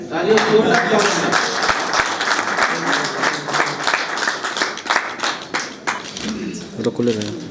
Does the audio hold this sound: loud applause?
yes